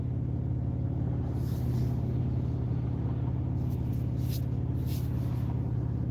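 Steady low engine rumble and road noise from a car driving through a narrowed single-lane construction zone on a summer driving lesson, continuous and close throughout, with a few faint hissing bursts passing.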